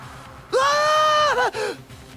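A loud, high-pitched scream of roughly a second from the Danganronpa Trigger Happy Havoc video game, holding steady, then breaking off into a shorter trailing cry, alone with no talk.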